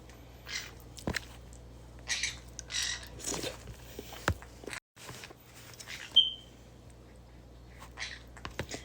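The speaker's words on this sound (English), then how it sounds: "I've had these birds for so many years." Pet birds squawk and chirp indoors in scattered, irregular bursts, some sharp and loud, others faint, with a brief high whistle partway through and no talk.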